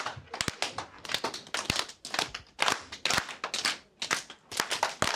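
Children in a primary-school music lesson clap and tap a repeating rhythm together, a steady run of sharp, close hand strikes in a tap-tap-clap-tap-tap pattern, with no talking.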